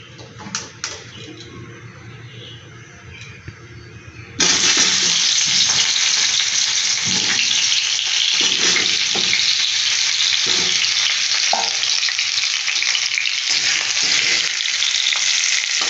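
Potatoes fry in hot oil in a wok, giving a loud, steady sizzle that starts suddenly after a quieter stretch, broken by occasional stirring clatters.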